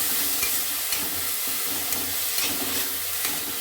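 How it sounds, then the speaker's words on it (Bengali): Food is stirred in a hot cooking pan during home lunch preparation, giving a loud, close, steady sizzle with faint scraping strokes of the spoon throughout. "সামান্য একটু নেড়ে নেবো"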